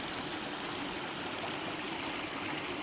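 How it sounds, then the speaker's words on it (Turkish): A forest creek rushes on from the pool beneath a waterfall, giving a steady, dense, loud wash of flowing water with no voices. "Bu dere böyle devam ediyor"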